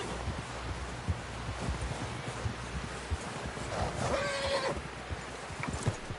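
A horse neighs in Red Dead Redemption 2, one clear whinny rising midway over hoof clops, rustling and a low outdoor wind bed, fairly close and moderately loud.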